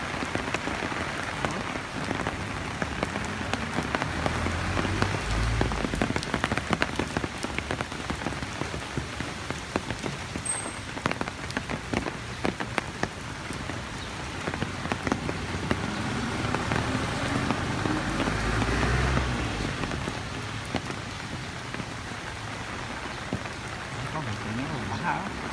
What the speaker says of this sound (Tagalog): Ito na ulan, no?